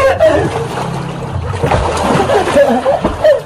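Water splashing in a swimming pool as people jump in to bathe, a busy churning wash with voices calling and shouting over it.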